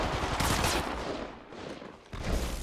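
Loud, dense automatic gunfire in the mobile video game Apex Legends Mobile, sustained bursts that briefly thin out before a fresh volley.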